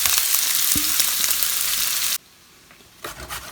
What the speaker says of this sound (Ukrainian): Цибулю подрібнюємо і відправляємо на розігріту сковорідку обжарувати.